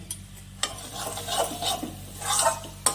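A spoon stirs dried fish chutney of lote shutki and sidol as it sautés in a pan, with a soft, steady sizzle broken by scraping strokes and a few sharp clinks against the pan.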